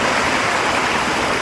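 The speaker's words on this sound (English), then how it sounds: "You got a waterfall in the back." Waterfall at a natural hot spring in Idaho, a loud, close, unbroken rush of falling water filling the whole sound.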